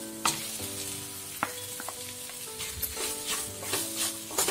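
Anchovies dropped into frying onion and tomato sizzle loudly and steadily in a pan, with scattered crackles and stirring clinks, close by and with no talking.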